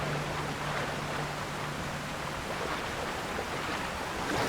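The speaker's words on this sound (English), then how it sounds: "So you get behind this waterfall." A rushing waterfall in Zelda: Tears of the Kingdom gives a steady, dense roar of falling water at even loudness throughout, alone with no talking.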